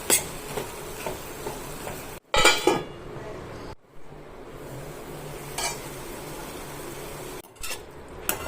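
A spoon stirs green peas and tomato curry with garam masala and kasuri methi in a pan. Soft scraping and clinks sit over a low sizzle, with a few louder knocks and brief gaps.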